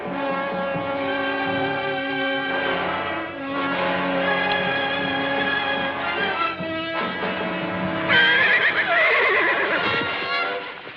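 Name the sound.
horse neighing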